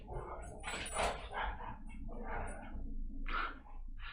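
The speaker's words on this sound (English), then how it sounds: "The dogs are going crazy out there playing." Dogs play outside and bark in repeated bursts, somewhat distant and muffled, over a steady low background hum, with no talking.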